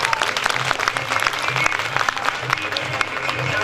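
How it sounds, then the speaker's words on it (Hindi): Sustained applause from the audience at a business seminar in Gajraula, a dense, steady patter of many hands clapping together without a break. "एक बार जबरदस्त ताली आप सबको।"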